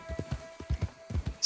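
Horse hooves clip-clop in a steady trotting rhythm in Red Dead Redemption 2, close and fairly loud, each beat landing in quick pairs.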